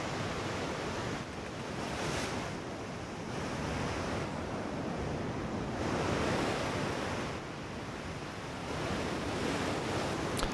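Sea waves and wind wash around a sailing ship in the naval game World of Sea Battle, a continuous loud surf that swells and recedes in slow, regular surges with no talk.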